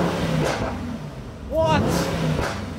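A Mercedes-AMG GT 63S in race mode revs its engine, a loud, close roar that swells and falls in pulses, with a voice talking over it.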